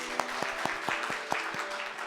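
Church congregation at a Sunday service clapping to welcome visiting guests, a brief, fairly faint patter of separate claps in an uneven rhythm.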